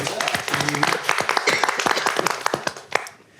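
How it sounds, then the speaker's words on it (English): People at a college board of trustees meeting clap for a foundation, a modest scatter of hands close by that thins out toward the end, with voices talking over the applause. "can we give the foundation a round of applause for that one?"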